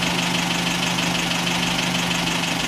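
A TF car engine idles steadily and close, a continuous rough hum with a fast, even pulsing beat and no voices over it.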